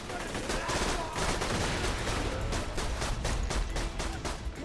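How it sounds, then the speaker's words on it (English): SMG gunfire in a video game, rapid repeated shots in short bursts with a steady rattling rhythm, loud and close over game ambience. "That's an SMG."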